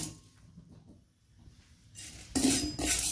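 Sago pearls dry-roasting in a pan, with quiet rustling that gives way to louder scraping and clattering of the stirring spoon against the metal pan near the end, no voices.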